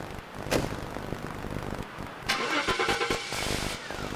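A car engine starts and pulls away from Westminster, its mid-pitched motor rising with a few sharp knocks and clunks nearby, moderately loud and without talk.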